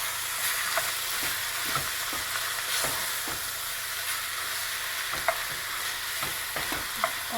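Ground meat browns in a hot pot for lasagna alla Bolognese, a steady close sizzle and fry with repeated soft scrapes and stirring knocks, no voices.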